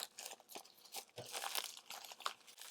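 Puffy plastic sheet packaging holding Lego breadboard base plates crinkles and crunches as hands work at it, a quiet close series of rustling bursts with no talking.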